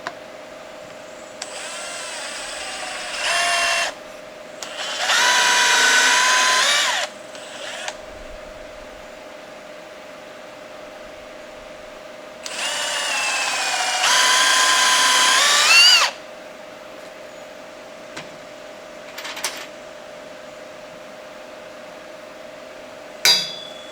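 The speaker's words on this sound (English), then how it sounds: "I'm going to put some screws in here." A power drill drives screws into a wooden garden trellis built from 4x4 posts and boards, with several loud, close bursts of whining motor separated by pauses and a faint steady background hum.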